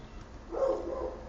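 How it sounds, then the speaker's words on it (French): A dog barks somewhere off in the distance, one muffled, faint bark that swells briefly mid-clip over low background noise, with no voices. "il y a un chien qui est en train d'aboyer"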